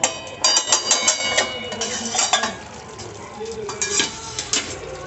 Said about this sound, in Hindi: तो चलिए सब्जी को एक बार चला देते हैं।